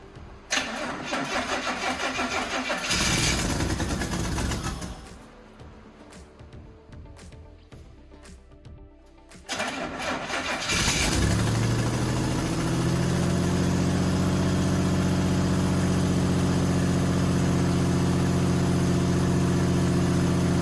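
Buick Grand National engine starting up for the first time after a rebuilt exhaust with new headers and downpipe, a loud cranking, catch and rev settling into a steady, close idle with no talk.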